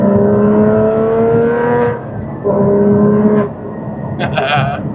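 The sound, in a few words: 2016 Porsche Cayman GT4 Manual driving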